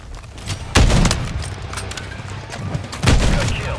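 Rocket blast in a Call of Duty match, two heavy booming impacts about two seconds apart, loud and close over a dense bed of in-game noise and scattered gunfire.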